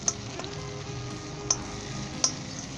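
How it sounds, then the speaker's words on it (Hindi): Carrots, cabbage and other vegetables sauté in a pan for vegetable pasta, giving a soft, continuous sizzle punctuated by three sharp clinks of stirring against the pan. "जो हमने गाजरें और ये बंद गोभी वगैरह सब चीज़ें डाल के सौते किया है"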